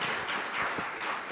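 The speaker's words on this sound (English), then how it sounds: "I'm asking that you give that round of applause to Dr. Tim Theory as he comes to the stage." An audience gives a steady, moderate round of applause as a speaker comes to the stage at a health conference. The clapping holds at an even level for the whole short stretch.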